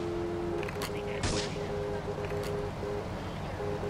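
A sniper rifle fires in GTA III Definitive Edition: one sharp, loud crack stands out about a third of the way in over a steady hum of game ambience and engine drone.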